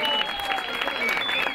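A crowd applauds the winning cyclists at the medal ceremony of the Andalusian junior and under-23 road championship in Olvera, with steady, dense clapping throughout and an announcer talking over it.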